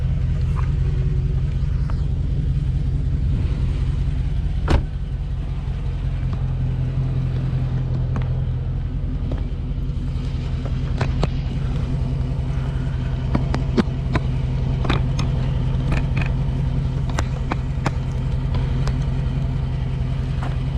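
A car turns during a night-time Fourth of July street takeover, heard as a steady low engine rumble with scattered sharp cracks and pops from the crowd around it.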